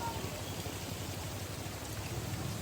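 Rain falls on a street in Sampaloc, Manila as a dense, even hiss of drops. It holds steady throughout with no voices over it.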